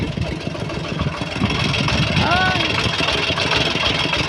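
A walking tractor's engine runs steadily and loud at close range, a continuous mid-pitched chugging drone, with people talking over it.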